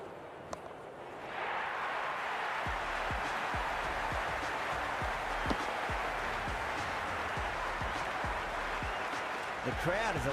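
Crowd cheering in the Cricket 26 video game, a sustained, loud roar of spectators that rises after a quiet start and holds steady, with a commentator's voice speaking over it.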